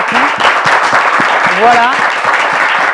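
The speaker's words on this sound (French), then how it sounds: "on peut vous applaudir très fort" A studio audience on a Christian talk show gives loud, continuous applause for a pastor, a dense wash of clapping that runs under someone speaking briefly.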